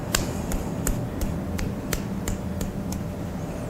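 A fist taps down the arm toward the wrist at a steady rhythm, about ten light, crisp taps close up over a low background hum.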